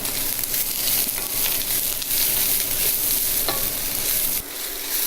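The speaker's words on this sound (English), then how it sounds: "Saute these for about 5 to 8 minutes until they are translucent and brown" Sliced onions sauté in a hot pan with a steady, close sizzle and intermittent stirring scrapes, loud and continuous, with no talking.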